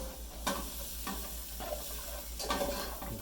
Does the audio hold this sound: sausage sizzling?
yes